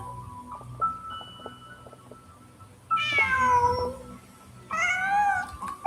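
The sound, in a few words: cat meowing in a video game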